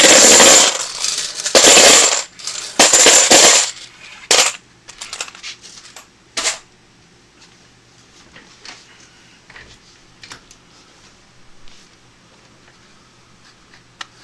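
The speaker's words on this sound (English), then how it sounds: "Get ready for a little coin explosion noise." A rush of half-dollar coins from a bank box clatters and jingles onto a pile in loud bursts, then scattered single coins tick and settle more faintly before quiet.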